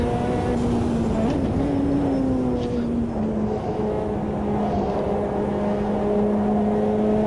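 Racing car engine in Automobilista 2, a Ferrari F40 GTO-style mod, droning steadily with a strained clutch, loud and continuous with a brief pitch rise near the start, under faint talk.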